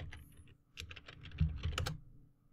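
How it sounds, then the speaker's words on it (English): Quiet, close keystrokes on a computer keyboard come in a quick burst of clicks with short pauses as a command is typed, with no voice. "the last thing you need to do is type"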